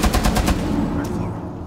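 Rapid automatic gunfire in Rainbow Six Siege, a burst of about six loud close shots in quick rhythm, followed by a fading echo.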